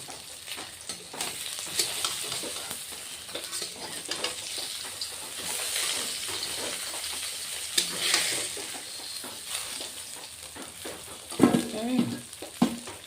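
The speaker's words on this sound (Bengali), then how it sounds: "বন্ধুরা হয়ে গেল আমার মাছ ভাজা এখন মাছ ভাজাগুলি নামিয়ে দিচ্ছি" Pieces of katla fish fry in hot oil in a pan, giving a steady close crackling sizzle with intermittent stirring and a few louder scrapes and clinks near the end, with no talking.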